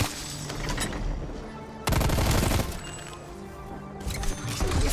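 SMG fire in Black Ops Cold War Zombies, loud rapid automatic bursts with a heavy volley near the middle, punctuated by impacts over game ambience.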